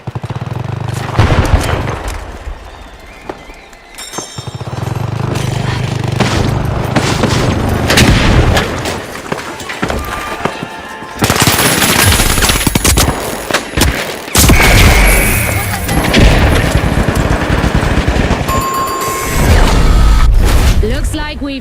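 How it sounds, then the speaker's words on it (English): Thermite and frag grenade blasts in a multiplayer shooter game, loud booms and crackling bursts mixed with rapid gunfire across a busy battle, with voices talking over the action. "Firing thermite. Firing thermite. Frag grenade sent."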